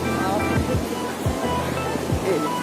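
Ocean waves at Digha beach, a continuous wash of surf and wind noise holding steady and fairly loud, with faint voices in the background.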